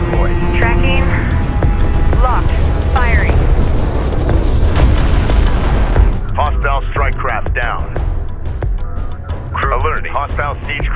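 Ship weapons fire and explosions boom continuously in the space strategy game Homeworld: Deserts of Kharak, loud rumbling blasts and gunfire throughout, with radio voices and chirping comm tones layered over the battle.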